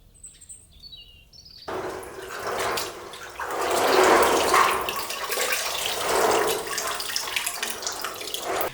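Plain tap water running for window washing in a winter garden, a close, splashing stream that starts abruptly after a quiet moment with faint birdsong and continues steadily.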